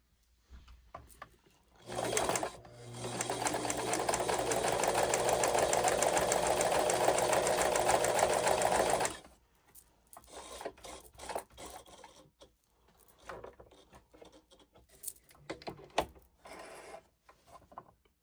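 A Brother VX 780 sewing machine sews a zigzag stitch in one loud, steady run of about seven seconds, followed by scattered quieter clicks and handling noises.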